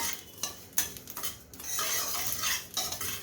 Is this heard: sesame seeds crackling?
yes